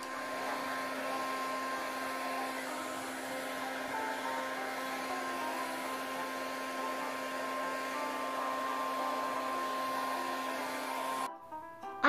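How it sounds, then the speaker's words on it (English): A hair dryer blow-drying a plush toy runs with a steady, even whir and hum for several seconds, close and constant, before cutting off with a brief clatter at the end. "I have to blow dry Lily."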